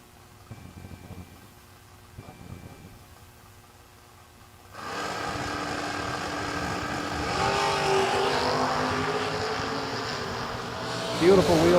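A Rambler wagon drag race car launches hard with a wheel stand at a drag strip, a loud engine roar that swells over the crowd and builds steadily, with a commentator talking beneath.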